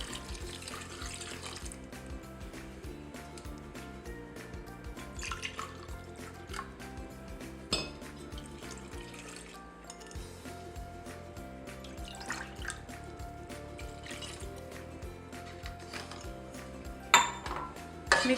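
Tap water runs steadily into a cooking pot holding tamarind paste and curry leaves in a hotel kitchen. The stream is continuous, with light clinks of metal near the end.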